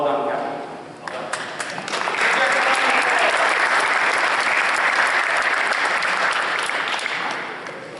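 Sustained round of applause fills a football awards ceremony hall, building after a second to a steady, dense clapping from a sizable crowd that holds for several seconds before easing off.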